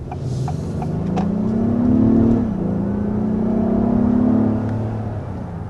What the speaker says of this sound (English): There's a bit of an acceleration, a little bit foiled by the red light here